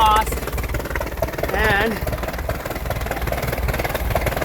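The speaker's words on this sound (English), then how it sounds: "Now that the impeller is fixed, you'll see the water will be spitting out of the exhaust" An outboard boat engine with a freshly replaced impeller, alpha leg drive, runs with a steady rough chugging idle, close and loud, while a person talks over it.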